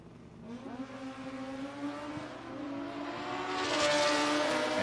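A Kawasaki ZX14 drag racing motorcycle at a drag strip revs up with a rising engine whine that builds steadily louder, with a steady droning tone underneath.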